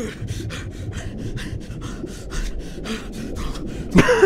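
A character in the video game Dying Light pants heavily in quick, regular breaths that repeat rhythmically without pause, close and clear, ending with a brief sharper noise.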